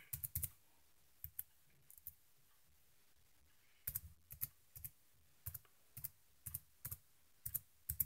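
Keys clatter on a new tablet keyboard in short clustered bursts of typing, separated by pauses and a long gap in the middle. The clicks are close and quiet, and no one speaks.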